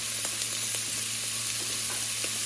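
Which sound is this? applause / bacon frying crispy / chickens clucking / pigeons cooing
bacon frying crispy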